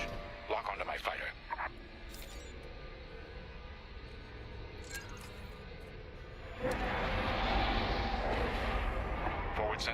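A starfighter engine in the Star Wars: Squadrons video game, throttling up to launch out of a hangar: a steady mechanical hum that swells into a louder, broad roaring rush for the last few seconds, with voices heard early on.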